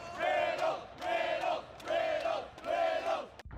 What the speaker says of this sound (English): This crowd was insane too.